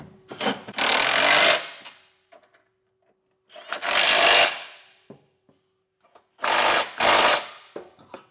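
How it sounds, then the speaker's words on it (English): An impact-style power tool tightening trailer hitch receiver hardware on a 2020 Chevrolet Blazer, three loud whirring bursts of about one to two seconds each, separated by quiet pauses. "Snug up our hardware."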